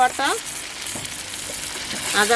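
Ginger paste sizzling in hot oil in a pan while cooking rajma dal masala, a steady close frying hiss through the clip with a voice speaking briefly at the start and end.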